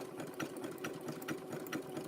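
A sewing machine with a large nose stitches rope and fabric into a teacup shape, running in a close, steady mechanical chatter with rhythmic pulses of the needle and no talk.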